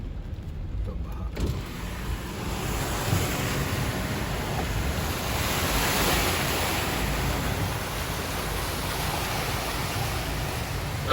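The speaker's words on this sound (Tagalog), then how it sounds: "Ito baha." Floodwater in a Metro Manila street during monsoon rain makes a steady, broad rushing wash that runs loud and unbroken from early on, with a hiss of rain and passing traffic mixed in.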